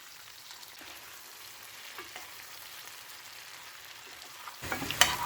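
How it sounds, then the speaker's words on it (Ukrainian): Soft, steady sizzling of zucchini frying in a little oil in a heated pan, growing louder and crackling near the end. "Тепер я всі ці кабачки перекладаю на розігріту пательню, додала трішки олії і буду смажити"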